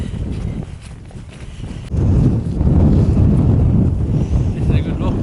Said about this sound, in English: You do know that nobody can actually hear you against the wind.